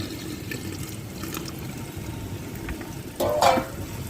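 Water is poured into mutton masala cooking in a clay pot: a faint low hiss runs throughout, then a brief louder splash-and-gurgle of pouring rises near the end, close by and without speech.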